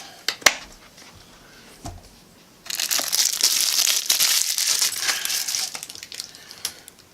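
Thick powdered ration shake mix is stirred with water in a cup: a few sharp taps against the cup, then a dense, continuous scraping and gritty swishing that fades into scattered clinks. Close-up, with no voices.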